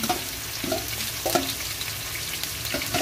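Marinated meat frying in hot oil in a pan, a steady broadband sizzle with a few brief scraping stirs, close and moderately loud, with no voices.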